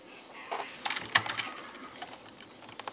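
A computer keyboard clatters during a Counter-Strike 1.6 match, with scattered quick key clicks and a few sharper taps at close range over a faint background hiss.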